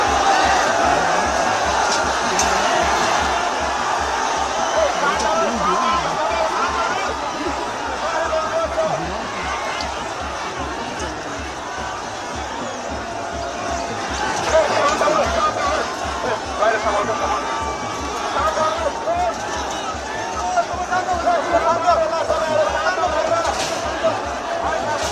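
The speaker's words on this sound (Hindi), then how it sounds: "सामने आप देखिए कितनी भीड़ है प्रदर्शनकारियों की" A large crowd of protesters murmurs and chatters at a police barricade, a dense, continuous babble of many voices with occasional laughter, steady and moderately loud throughout.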